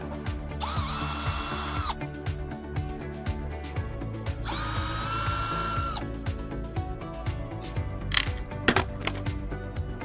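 Power screwdriver with a T20 bit backing out screws from an LED board: two buzzing whirs of a few seconds each, surrounded by clicks, taps and rattling handling noises close up.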